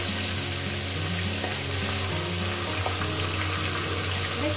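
Bhetki fish bones frying in a pan give a loud, steady, dense sizzle that holds evenly throughout, with no speech.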